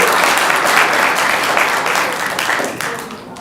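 Sustained clapping from a crowd at a zoning advisory board meeting, loud and dense throughout, slowly fading toward the close.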